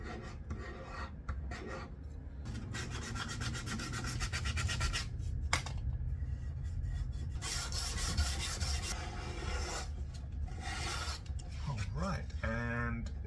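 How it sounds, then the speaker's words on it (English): Sandpaper rasps back and forth along the side of a new violin's wooden fingerboard in a steady, close scratching rhythm, with a few brief pauses between strokes. "I go through the different grades of sandpaper, going finer and finer"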